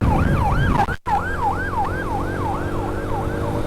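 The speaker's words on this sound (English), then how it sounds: "sounds like some emergency service coming in" Loud emergency vehicle siren approaching along a road during a motorbike ride, wailing in steady repeated up-and-down sweeps over a constant engine and wind rumble, with a brief dropout near the start.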